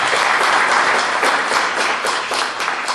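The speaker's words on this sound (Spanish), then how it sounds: "quien pide un aplauso también, por favor." Loud, close applause from a recital audience honoring a violin teacher in a library hall, many hands clapping in a dense, even patter that fills the whole stretch.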